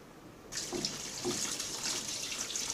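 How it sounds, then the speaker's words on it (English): Tap water starts running suddenly and keeps flowing steadily into a sink while spring onions are rinsed under it, with soft splashing and handling noises. "Now, wash the onion spring."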